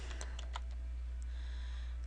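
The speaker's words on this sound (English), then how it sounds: "I need to be careful because it's not typing in the right place" Keys clatter on a computer keyboard in a quick burst of taps, then slow to a few scattered clicks, faint and close against a steady low hum.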